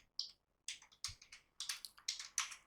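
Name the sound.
typing on a computer keyboard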